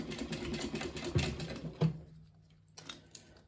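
A sewing machine stitches a quarter-inch seam across a small crossbody bag, running in a steady mechanical whir for about two seconds, then stopping, followed by a few short clicks and bursts; no speech.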